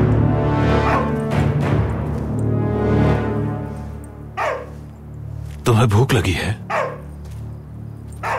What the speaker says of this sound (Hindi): फजूल में क्यों भौंके जा रहे हो?